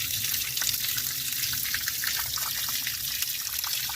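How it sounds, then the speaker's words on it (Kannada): A small mini waterfall on a trekking route in Dakshina Kannada splashes and trickles steadily, with a constant close, moderately loud rushing hiss of falling water and no voices. "ಫಾಲ್ಸ್ ನೋಡ್ತಾ ಇದ್ದೀರಲ್ಲ, ಈ ಫಾಲ್ಸ್ ಎಲ್ಲಾದರೂ ನೋಡಿದ್ದೀರಾ? ನೋಡಿ, ಅದ್ಭುತ ಫಾಲ್ಸ್, ಮಿನಿ ಫಾಲ್ಸ್."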